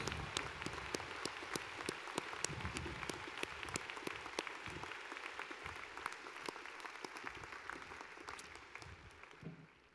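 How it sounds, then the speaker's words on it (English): A commencement audience at the UW-Madison spring ceremony applauds steadily, a dense wash of many hands clapping at fairly close range that holds for about ten seconds before fading out. "Join me in giving a round of applause to all of these individuals."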